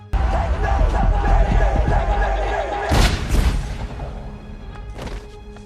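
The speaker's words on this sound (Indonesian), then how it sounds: "polisi pun menembak Stu dengan peluru karet agar sang pelaku tidak menembak mati Stu lebih dahulu" Rubber-bullet gunfire in a film scene, heavy booming impacts with a rumbling low end, a sharp loud burst near the middle and another fainter crack toward the end.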